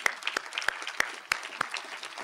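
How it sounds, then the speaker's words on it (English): Scattered applause at an anniversary celebration event for a guest, a modest group of distinct individual claps, fairly sparse and quiet, heard from a short distance. "give her a round of applause"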